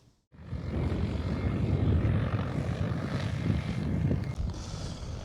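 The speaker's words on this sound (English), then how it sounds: "Drone's cranking into it, no problems whatsoever." XAG agricultural spray drone flying over forestry, giving a loud, steady rotor drone that starts abruptly after a brief quiet moment and holds continuously with only slight swells.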